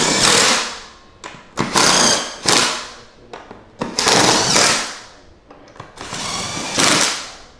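A power tool drives screws into the seat bracket of a Jazzy Evo 614 power chair in several loud, close bursts of whirring, each ramping up and cutting off with short pauses between.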